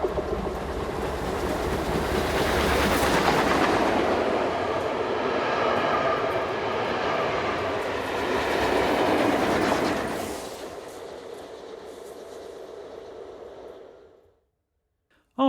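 A German Class 52 steam locomotive train rumbles past near Frankenthal with rhythmic clattering wheels, loud and close at first, then fading into the distance before falling silent.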